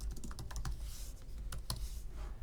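Quick, light keystrokes on a computer keyboard, including presses of the Tab key, tapping in a brisk irregular run of close, soft clicks with no voices.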